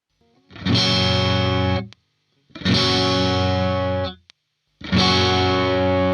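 Heavily distorted, high-gain electric guitar chords through a Fractal Audio FM3 amp modeler, played in three sustained bursts, each ringing out for over a second before cutting off, loud and alone.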